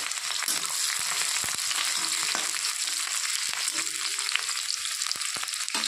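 Chopped onion, green chili and garlic fry together in a pan, with a dense, loud, continuous sizzle crackling close up and occasional light taps from stirring.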